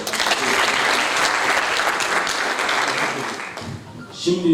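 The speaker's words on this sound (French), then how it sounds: "On applaudit encore une fois de plus." Audience applause fills the room in a dense, steady wash of clapping, then thins out toward the end as a voice begins speaking over the last scattered claps.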